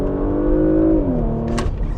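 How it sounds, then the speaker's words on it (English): Porsche Macan GTS SUV accelerating hard in second gear in Sport Plus mode, a loud steady engine drone that holds pitch then drops slightly as it upshifts, with a brief whooshing burst near the end. "Again, second gear, put your foot down,"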